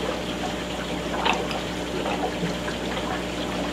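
An aquarium filter runs steadily, churning and stirring the tank water into a continuous close gurgling wash with small splashy swells.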